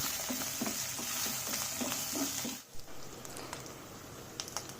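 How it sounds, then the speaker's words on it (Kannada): Dry red chillies crackle and sizzle in hot oil for a tempering, a steady frying hiss with small popping bursts, briefly interrupted by a soft clatter before the sizzle resumes more quietly. "ಈಗ ಒಂದು 4 ಒಣಮೆಣಸು ಒಗ್ಗರಣೆಗೆ ಮಾತ್ರ ಸೇರಿಸ್ಕೊಂಡು ಚೆನ್ನಾಗಿ ಅದನ್ನು ಸಹ ಚೆನ್ನಾಗಿ ಫ್ರೈ ಮಾಡೋಣ"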